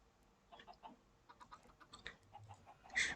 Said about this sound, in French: Oula, un poulet en plus. Ça fait 3 poulets.